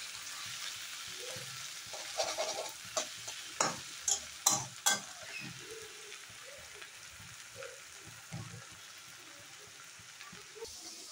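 Mustard greens frying in a pan make a soft, quiet sizzle, broken by a run of sharp scraping and clattering stirs in the middle and a few more scattered ones later.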